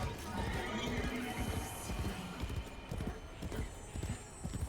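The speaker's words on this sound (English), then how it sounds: "I cannot believe we're riding a fucking horse right now." A horse in the Warframe video game, in the Duviri Paradox, neighs while its hooves clip-clop in a quick, continuous rhythm, loud and close with no speech.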